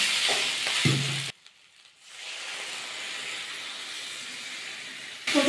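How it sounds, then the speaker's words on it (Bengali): Water poured into a pan of frying soybean and egg curry, starting with scraping and stirring, then a sudden drop before a broad steady sizzle and hiss builds and holds, close and clear. "এবার জল দিয়ে দেবো।"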